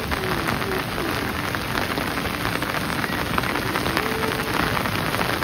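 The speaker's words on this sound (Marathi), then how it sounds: "पावसाचा आवाज येत असेल मला माहिती नाही, पण कंटिन्युअसली पाऊस पडतोय." Continuous rain pours down on a Konkan village, a dense, unbroken hiss of drops striking surfaces that stays loud and steady throughout with no talking.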